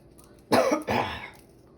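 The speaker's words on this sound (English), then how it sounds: "Had a cough behind me because I can't cover my mouth." A single close, harsh cough in two quick bursts, loud against a quiet room, with no talking.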